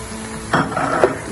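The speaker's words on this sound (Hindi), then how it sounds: "इसमें हम लहसुन अदरक का पेस्ट ऐड कर देंगे" Garlic ginger paste added to light-brown fried onions in a pan, giving a short close sizzle with a couple of quick stirring scrapes over a steady background hiss, no talk.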